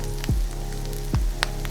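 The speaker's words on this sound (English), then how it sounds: "Sizzle. Let that cook for a little bit." Steady sizzling of a tuna melt sandwich frying in a pan, a soft crackling hiss with a few low thumps and light clinks nearby.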